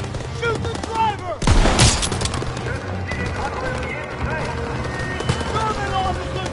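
Rapid bursts of gunfire crackle in a Call of Duty: WWII battle, with a loud blast standing out amid scattered shots while voices shout over the combat.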